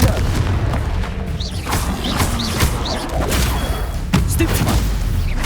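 Confringo fire spell explosions in Hogwarts Legacy combat: a dense run of booming blasts and crackling bursts with whooshing spell sweeps, sounding loud and close over a constant rumbling battle backdrop.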